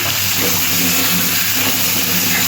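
Pieces of bottle gourd sizzle steadily in a little hot oil with turmeric, a dense, loud, continuous hiss without a break.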